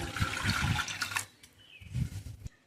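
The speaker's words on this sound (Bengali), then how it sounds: "এই বাটির ফুল জল দিয়ে দিলাম" A full bowl of water is poured into half a bowl of lentils for sambar dal: a loud splashing pour, a brief pause, then a second shorter gush.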